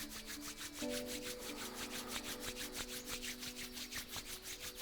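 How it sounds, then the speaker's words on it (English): Palms rubbing briskly together in a steady back-and-forth rhythm during a slow, mindful yoga session, each stroke a soft close swish with a faint low hum underneath. "Bring your palms together, rub them and create a warm friction."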